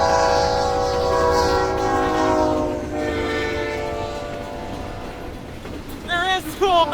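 A train rolls past a grain elevator in Moosomin, a steady loud rumble of railcars with rail clatter filling the air, a horn-like tonal blast sounding throughout, and a brief squealing tone near the end.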